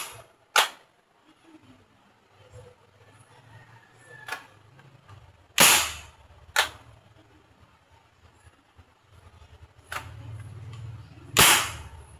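Six sharp shots from an AR-15-style airsoft rifle crack out one at a time at irregular intervals, each a short snappy pop over a quiet, faintly rumbling background.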